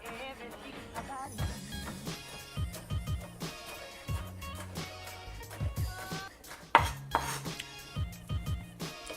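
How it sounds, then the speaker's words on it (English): A knife on a cutting board chopping cucumber into small, fine pieces: a steady run of quick knocks and clatters with occasional brighter clinks, close up and fairly busy. "I'm going to cut the cucumber up into small pieces."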